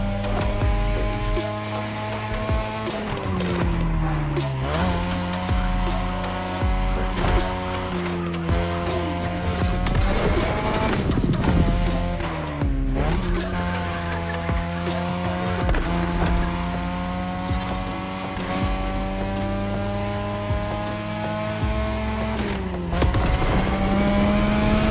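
A Japanese street-racing car in The Crew Motorfest revs loud and steady throughout, its engine pitch climbing and dropping with repeated gear shifts. Tires squeal through the corners and other cars roar past.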